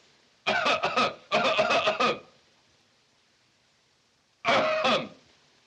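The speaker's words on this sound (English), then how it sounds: "I cough when I want to." Three loud bursts of coughing and throat clearing from a man in a 1929 musical film comedy, two close together, then a pause and a shorter third burst.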